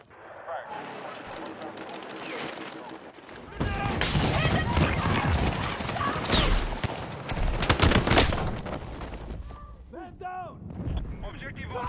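SCW gun firing in Battlefield 6, with dense, loud bursts of gunfire and explosions through most of the stretch and heaviest after the opening seconds, mixed with other battlefield noise while a voice talks over it.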